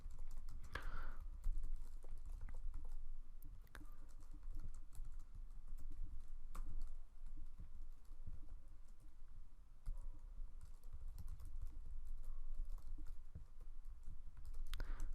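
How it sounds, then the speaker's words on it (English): Keys on a computer keyboard clatter in quick, uneven bursts during JavaScript coding, close and fairly quiet, with a few sharper clicks scattered throughout and no speech. "let me just type real quick again"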